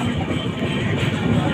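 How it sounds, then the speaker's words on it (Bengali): The Dhauli Express, an express train on the Santragachi to Puri route in India, runs at speed along the rails with a steady, loud rumble and rolling noise from inside the carriage, and no voices are present. "কিন্তু ট্রেনের গতি একদম ঠিকঠাক যাচ্ছে, এক্সপ্রেসের মতনই ছুটে চলেছে"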